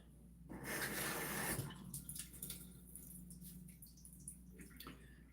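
Water is poured onto a potted herb plant indoors, a soft splashing trickle for about a second, then faint dripping and quiet rustling while the flow tapers off.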